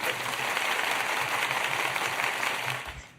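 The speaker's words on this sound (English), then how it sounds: "let's call it a virtual applause" A burst of applause at a school auction event: dense, continuous clapping from a crowd that fades out at the end.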